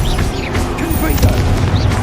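Confringo blast spells burst in Hogwarts Legacy on hard mode, heavy booming impacts rolling through a dense, continuous game-combat mix with a voice audible over the din.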